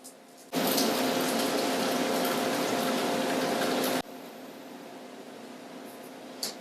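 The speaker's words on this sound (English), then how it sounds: "All that's left now for all of my pickles is to add my brine and pop on my lids." Brine poured into pickle jars: a loud, steady rush of liquid filling a jar for a few seconds, then cutting off to a softer trickle, with a small knock at the end.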